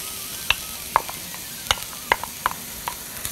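Onions going into hot oil in a pot for potato and corn soup, a constant hiss of frying beneath a series of crisp clinks and taps from a spoon stirring, close up with no voices.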